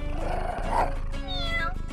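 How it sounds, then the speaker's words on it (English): A cat gives a drawn-out, strained meow that rises and falls, followed by fainter mewing, over a low background rumble. "Looks like this kitty wants to join."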